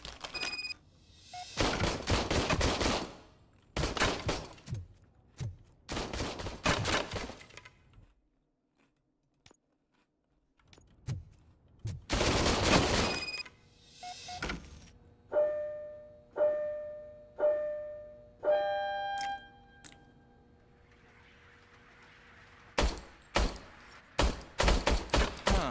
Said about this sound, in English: I was issued this old gun and serviced it according to the manual. I will try it out.